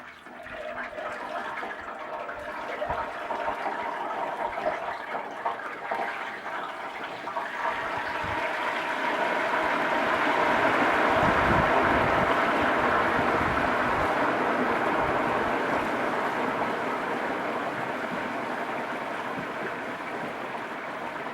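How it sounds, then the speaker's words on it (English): A whole turkey is lowered slowly into a pot of hot frying oil, raising a steady, broad bubbling roar that swells after the first few seconds and stays loud and continuous, with no talk over it. "lower the turkey in very, very slowly. As you can see, it's going to give a lot of steam and a lot of bubbles."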